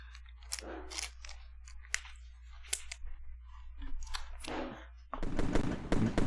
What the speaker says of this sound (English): Oop, didn't mean to hit the fireworks there.